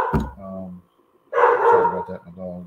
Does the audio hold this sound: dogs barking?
yes